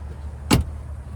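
A short mechanical thunk and whoosh as a 2025 Cadillac Escalade Platinum's power second-row seat tumbles forward, one quick burst over a steady low cabin hum.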